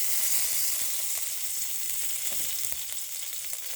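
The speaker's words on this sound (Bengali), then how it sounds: "কড়াইতে তেল দিলাম, 5 ফোড়ন," Panch phoron seeds sizzle in hot oil in a kadai: a steady, close frying hiss with a few sharp pops and crackles, and no voices.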